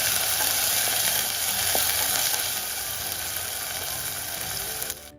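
Ginger and garlic paste with onion and tomato fry in a pan for beef spleen bhuna, giving a loud, steady, close sizzle that hisses without a break and fades slightly near the end.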